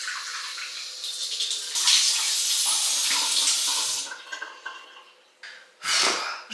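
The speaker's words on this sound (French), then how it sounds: "maintenant il suffit de rincer" Tap water runs and splashes while a face mask is rinsed off at a sink, a steady stream with hands moving through it, pausing briefly and then resuming in short close bursts.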